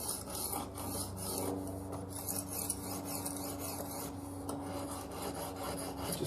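A kitchen knife is sharpened with light, even strokes on a sharpening stone, working both sides to remove the burr. A steady, continuous rasping scrape runs throughout, close and fairly loud, with no talking.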